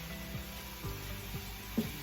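Fresh vegetables for hibachi-style fried rice sizzle quietly in a hot pan, a faint steady hiss broken by a few soft scraping stirs.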